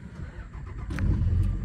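A manual Dodge dually pickup truck engine cranks and catches, its low rumble swelling into a steady running note over the last second.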